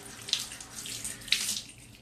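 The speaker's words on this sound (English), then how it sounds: "we're going to take a little towelette and just wet that with some warm" A faucet runs warm water to wet a small towelette at a bathroom sink, a steady close splashing stream with a couple of brighter spatters as the cloth meets the flow.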